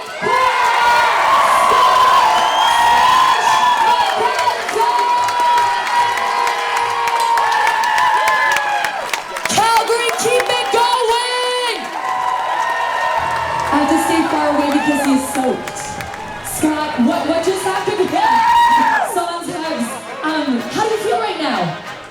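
Loud, sustained crowd cheering and whooping fill a Muay Thai fight venue, with shouts rising and falling continuously throughout and voices mixed into the roar.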